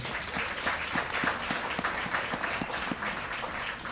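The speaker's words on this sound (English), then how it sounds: "a big round of applause to our band and the great sounds that they provided" An audience applauds the band at an Air Force basic military training graduation ceremony, a steady wash of clapping heard from some distance, moderately quiet and unbroken.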